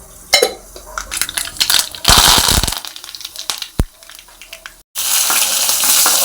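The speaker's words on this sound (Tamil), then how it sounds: "கடுகு நம்பருப்பு போட்டு தாளிச்சிக்கிடுவோம்" Loud crackling and popping of mustard seeds and dal spattering in hot oil, mixed with clinks of a utensil against the pan and bursts of sizzling.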